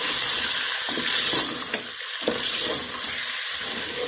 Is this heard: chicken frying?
yes